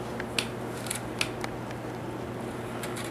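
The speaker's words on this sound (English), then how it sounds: "That means the cane is just wet enough" Wet cane strands being woven through a chair seat in hand caning, giving soft scattered clicks and squeaks over a steady low room hum.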